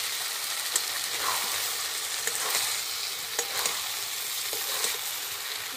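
Chicken sizzles and fries steadily in a pan with soy sauce, a loud, continuous crackling hiss with small pops and occasional stirring scrapes throughout.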